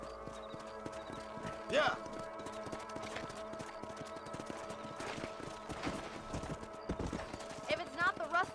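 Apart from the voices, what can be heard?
horse galloping while riding, in video game Red Dead Redemption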